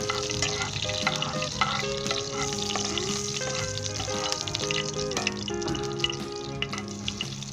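Desi ghee with cracked green cardamom melts in a pan for barley halwa, giving a steady, close, soft sizzle with stirring, heard alongside sustained tonal background sound.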